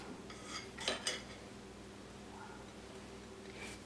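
A knife cuts into a warm Nutella ring cake with a few soft clinks of cutlery and dish near the start, then quiet rustling in a still kitchen.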